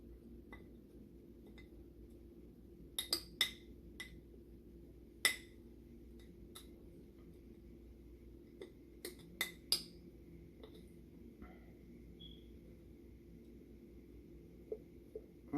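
Metal spoon clinking against a glass jar while stirring pumpkin pie overnight oats, a scattering of sharp, bright taps in small clusters over a quiet room hum, close and fairly soft, with no talking.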